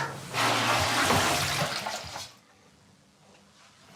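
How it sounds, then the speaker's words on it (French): Water poured by hand gushes and splashes into a toilet bowl with a broken flush for about two seconds, then drains away to a quiet trickle. "C'est comme ça que je tire la chasse."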